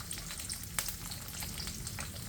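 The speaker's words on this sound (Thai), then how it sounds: "ทอดให้สุก" Pheka (Indian trumpet tree) pods fry in a pan with a soft, steady sizzle, crackling faintly and evenly, with one sharp tick partway through and no voices.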